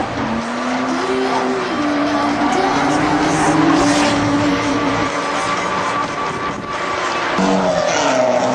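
A heavy, wide-wheelbase drift car slides sideways at a drift competition qualifier, its engine roaring steadily while tires squeal continuously and loudly throughout.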